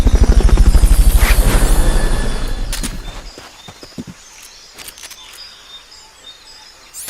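A helicopter's rotor thumps loudly and rhythmically up close in the video game Metal Gear Solid: Peace Walker, then fades away, leaving scattered clicks and faint game sounds.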